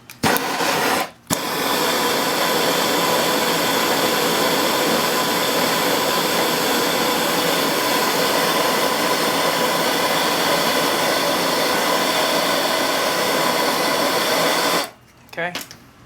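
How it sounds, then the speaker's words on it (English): A torch roars steadily while heating copper tubing for soldering on a moonshine still dephlegmator, a loud continuous rushing hiss that starts and stops abruptly, close up. "I'm going to put some heat on it, and I'm going to solder that in"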